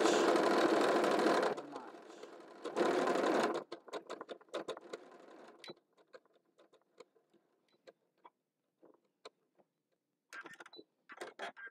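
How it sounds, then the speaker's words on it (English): A sewing machine stitches microfleece for winter hats in two loud, sustained runs, then stops. Light handling clatter and brief intermittent noises follow, with quiet gaps between. "Microfleece is hard to sew because it stretches so much."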